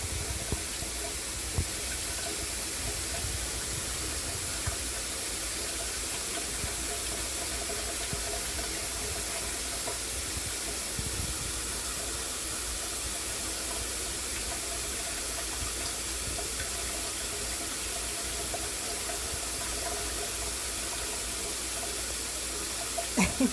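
An eclectus parrot splashes in running tap water, a steady broadband rush of flowing water with faint irregular splashes throughout, close and continuous with no talking.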